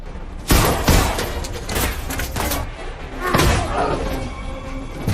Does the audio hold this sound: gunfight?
yes